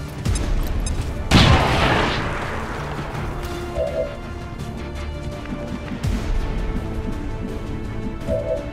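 A grenade detonates in XCOM 2, one sharp loud blast with a short rumbling decay, followed by scattered gunfire cracks and battle noise.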